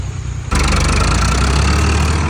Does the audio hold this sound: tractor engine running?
yes